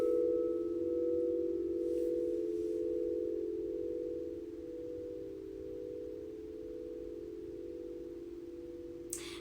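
Several sound bowls tuned to 432 hertz ring together and blend into a sustained, steady hum. It stays even and fairly quiet for the whole stretch and slowly softens, with a faint tap near the end and no voices.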